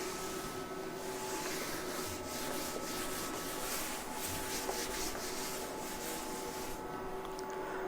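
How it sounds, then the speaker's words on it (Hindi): A board is rubbed clean with an eraser, giving a steady, close scrubbing and swishing sound that continues unbroken for several seconds with no talking. "मैं रब कर लेता हूँ"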